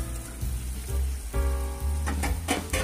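Fried tuna pieces drop into hot spiced masala oil for fish pickle, setting off a steady crackling sizzle with a few sharper spits and pops near the end.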